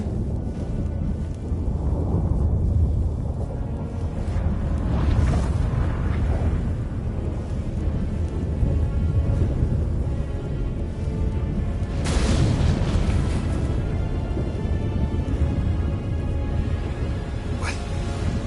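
A storm with thunder in the video game The Witcher 3: a constant deep rumble with wind-like roar, broken by a few louder thunder cracks, loud and close with no voices.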